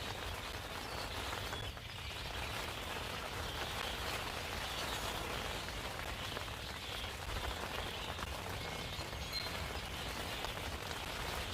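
Steady rain falls on surfaces outdoors ahead of a storm, an even continuous patter with a few faint bird chirps and frog calls far off.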